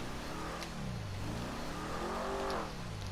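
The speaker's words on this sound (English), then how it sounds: "Get some revs" A Truffade Z-Type classic sports car engine in GTA Online revs up and down twice in smooth swells, a steady close drone rising in pitch and falling back.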